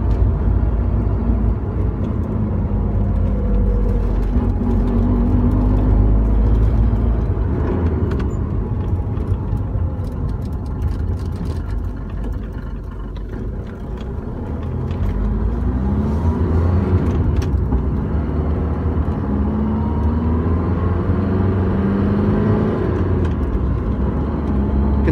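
A Mercedes 190 diesel with the 2.2 engine and five-speed manual gearbox runs and drives after a cold start. Its engine drones and rumbles steadily throughout, with gentle rises and dips as it revs and shifts, and no voices are heard.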